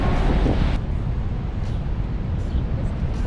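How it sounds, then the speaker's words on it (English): Wind gusts through the Cave of the Winds beside Niagara Falls as a loud, steady, rushing roar that buffets the microphone throughout, with no voices. "It is breezy down here and a little chilly, but so beautiful."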